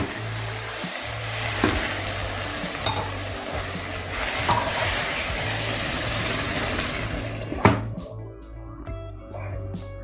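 Crushed tomatoes sizzle and spit in a hot pot with lentils for dal makhani, a steady loud frying hiss broken by stirring and a sharp clank of a utensil near the end as the sizzle drops away.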